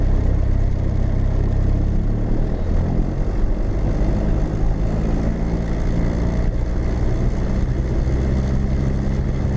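A light aircraft's propeller engine drones loudly and continuously during a pre-takeoff run-up, its pitch rising early as the throttle comes up to 2,000 RPM and then holding steady.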